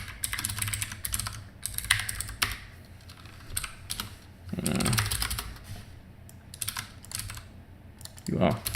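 Code typed on a computer keyboard in quick bursts of close, crisp clicks and clacks, separated by short pauses, with soft low sounds mixed in.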